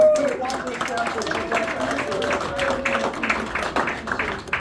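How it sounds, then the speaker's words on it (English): Audience at a magic show in Nashville applauds two volunteers, a dense steady patter of many hands clapping at moderate loudness, with a sustained voice running underneath throughout. "You can give them both a big round of applause."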